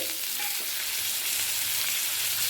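Chopped tomato going into a pan of frying sea chanda fish with mustard paste, a steady loud hissing sizzle filling the whole moment with no talking.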